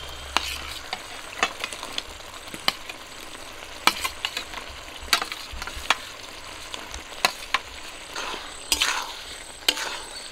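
Potatoes and taro that were fried earlier go into a pan of masala that is still not fully dry. You hear a steady low sizzle, and sharp scrapes and clinks from stirring break in at irregular moments. There is no talking.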